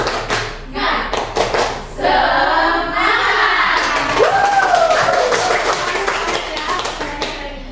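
Children in a classroom do a rhythmic encouragement clap: sharp, loud, rapid hand claps in a patterned sequence, then group chanting and shouting over continued clapping.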